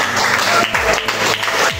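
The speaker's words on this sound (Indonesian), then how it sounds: "Oke, tepuk tangannya." A room full of people clapping together, loud and continuous for a couple of seconds.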